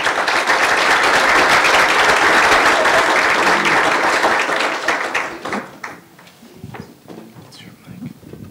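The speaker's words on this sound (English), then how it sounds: "round of applause for him too." At a forum on Egypt, an audience bursts into loud, sustained applause that dense clapping fills for several seconds before fading out into scattered claps and room noise.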